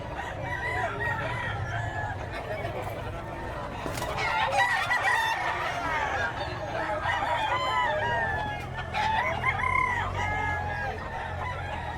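Chickens and roosters at a Bocaue pet market, with a rooster crowing repeatedly and clucking over a steady busy market murmur, loud and close.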